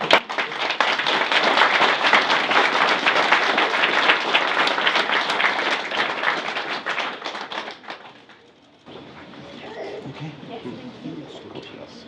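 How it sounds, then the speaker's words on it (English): Wedding guests at a ceremony break into dense, loud applause lasting about eight seconds, then it fades out and quieter room sounds and murmuring follow. "I think they deserve a round of applause."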